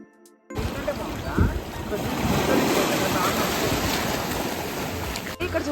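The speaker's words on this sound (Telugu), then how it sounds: "చూసినారా ఇక్కడ 2 చిన్న రాక్స్ మధ్యలో వాటర్ ఎంత బాగా వస్తున్నాయో" Sea water rushes and surges between two small rocks on a shell-covered island beach near Udupi, a loud, continuous wash of surf with wind buffeting the microphone.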